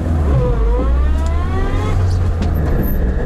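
A Lada Niva engine revs loudly and steadily while the vehicle reverses through mud, a continuous low growl with rising and falling pitch close by.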